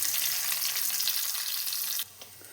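Curry leaves drop into hot oil with popped mustard seeds and fenugreek for an anchovy curry. A loud, dense crackle fills the first two seconds, then drops abruptly to a quiet simmer.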